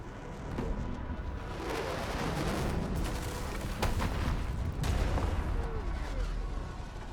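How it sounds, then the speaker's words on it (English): Artillery strike in the video game Arknights: Endfield, a sustained barrage of booming blasts and crackling gunfire with sharp impacts near the middle and toward the end, loud and continuous. "The UWST will fire at where you've marked."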